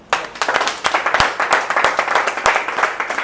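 Audience applause in a business seminar hall, a burst of many hands clapping together, loud and fairly close, with a few sharper individual claps standing out before it thins toward the end.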